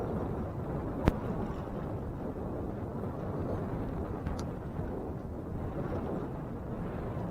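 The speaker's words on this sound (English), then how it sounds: "You can tell here it's pretty windy." Steady low roaring rumble of wind buffeting outdoors, continuous and fairly loud, with a couple of brief clicks.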